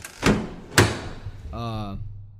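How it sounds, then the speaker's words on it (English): Two sharp thuds of a front door slamming shut in the video game Dream Daddy: A Dad Dating Simulator, close and loud, followed by a short voiced tone. "As I admiring them, the front door slams shut behind me."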